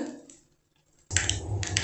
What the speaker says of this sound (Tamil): இப்போ கடுகு பொரிஞ்சிட்டு